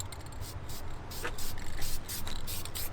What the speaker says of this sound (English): Really listen to the sound of my technique when I'm spraying.